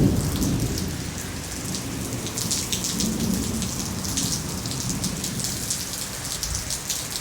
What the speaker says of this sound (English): as you can hear, it's raining because of the thunder. And don't believe me, it's raining like hell.